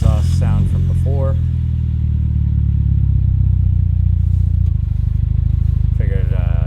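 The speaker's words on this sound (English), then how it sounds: "Here's the exhaust sound from before." Exhaust note from a Mitsubishi Evo 6 on its old exhaust setup, a steady low rumbling idle held loud and close throughout, with a brief rise partway through and a voice speaking near the start and end.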